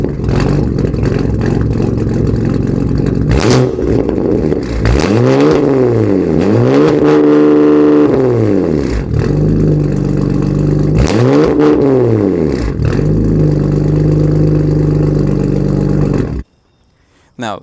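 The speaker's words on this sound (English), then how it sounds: "this is a valved exhaust, so I can run it quiet or loud, as you can hear, with a remote from Valvetronics" A 600-horsepower BMW engine with almost 100,000 miles revs hard through a Valvetronics valved exhaust, loud and close, climbing and falling in repeated swooping blips between a steady roaring idle, then cutting off abruptly.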